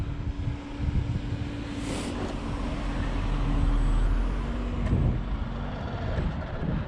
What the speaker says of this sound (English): I hear a car behind me.